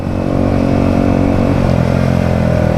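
A motorcycle ridden on a morning ride near a renovated park, its engine droning loud and steady throughout with a continuous low rumble and no talking.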